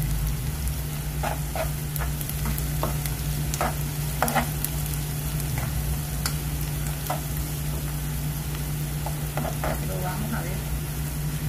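Chicken sautéing in a pan sizzles steadily under repeated scraping stir strokes, with a brief quiet voice at one point.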